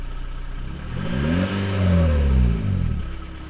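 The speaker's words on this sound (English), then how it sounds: "I really like the way that the turbo sounds on it though." Turbo diesel Volkswagen Beetle engine revving up close with its exhaust disconnected, rising to a loud swelling roar with a whirring turbo note, then settling back to a steady idle.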